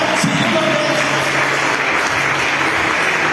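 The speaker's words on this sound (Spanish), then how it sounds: "Dale un aplauso fuerte al Señor en esta hora." Church congregation applauding steadily during a Spanish-language worship service, a dense, even wash of clapping from many hands that carries on throughout without a break.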